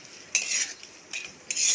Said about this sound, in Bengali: এবার আমি ভেজে রাখা আলুগুলো আর চিংড়ি মাছগুলো মশলার ভেতরে দিয়ে দেবো। দিয়ে আবার আমি একটু কষিয়ে নেব।